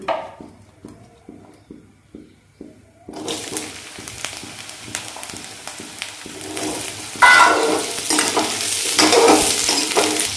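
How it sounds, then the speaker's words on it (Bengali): Potatoes and carrots go into well-heated cooking oil: a few seconds of rhythmic scraping and stirring, then a steady sizzle of frying that swells louder toward the end, heard close up without voices. "তেলটা খুব ভালো করে গরম হয়ে গেছে আগে আমি শক্ত সবজিগুলো দেবো"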